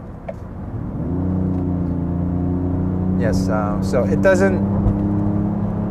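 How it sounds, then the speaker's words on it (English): Genesis GV80 diesel SUV engine in sports mode, heard from inside the cabin as a steady low drone that swells after the first second and holds on, with a person talking over it. "Okay, so let me just let you hear the engine a little bit."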